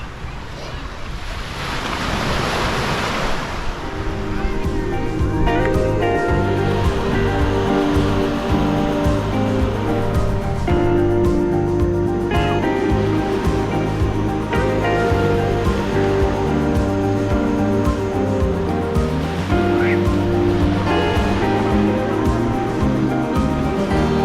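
Ocean waves washing onto a beach in Guimaras, a loud continuous roar of surf with wind buffeting the microphone, building up in the first few seconds and staying steady.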